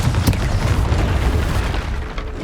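The Confringo blasting spell explodes in Hogwarts Legacy with a loud, close boom that rolls on as a continuous rumbling blast for the whole moment.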